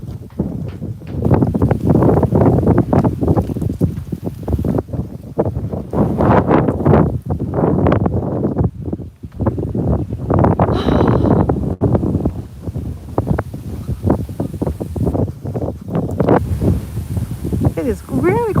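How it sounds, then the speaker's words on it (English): Strong afternoon wind batters the microphone outdoors with loud, continuous rumbling bursts throughout, while a person keeps talking over the buffeting. "It is really quite windy actually today, this afternoon."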